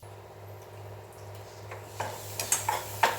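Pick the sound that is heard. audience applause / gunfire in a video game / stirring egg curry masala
stirring egg curry masala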